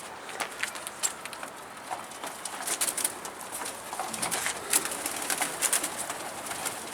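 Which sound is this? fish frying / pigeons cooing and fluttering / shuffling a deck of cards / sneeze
pigeons cooing and fluttering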